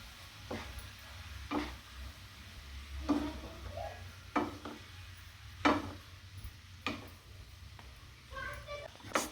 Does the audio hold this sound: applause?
no